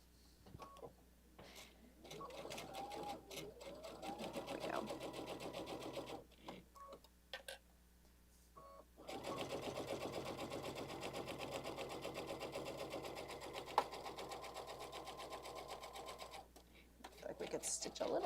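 A sewing machine stitches at a 2.5 stitch length in several bursts of steady, rapid needle chatter, pausing between runs while a person talks close by.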